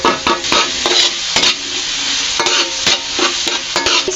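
Onion and garlic sizzle and fry in a pan for a Filipino sautéed patola dish with sardines and sotanghon. The sizzle is close and continuous, with repeated scraping stirs from a spoon or spatula.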